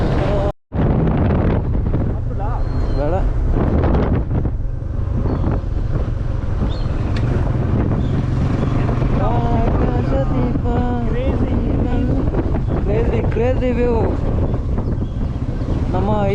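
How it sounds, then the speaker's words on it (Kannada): Steady wind roars and buffets against the microphone while riding on a road, loud and continuous, with a voice talking underneath. "ಒಂಥರ ಫೀಲ್ ಕೊಡುತ್ತೆ ಈ ತಂಪಾದ ಗಾಳಿ"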